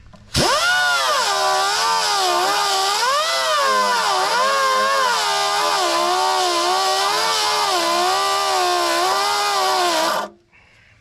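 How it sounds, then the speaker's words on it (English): Grinder working an old rusty brake line fitting, one long continuous high whine with a slightly wavering pitch that runs steady for about ten seconds, loud and close, then cuts off. "the fitting doesn't want to fit on there, so I got to grind a little bit more"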